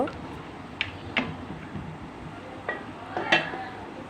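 A spoon stirring fish curry in gravy, katla fish with potato and kakrol in a pot, giving a few light scattered clinks and scrapes against the metal over a steady low background hiss.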